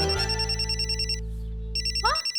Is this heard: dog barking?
no